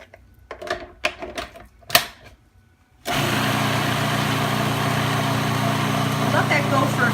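Food processor grinding a raw plant-based falafel mixture, starting after a few seconds of clattering and switching on into a loud, steady motor roar that runs to the end without speech.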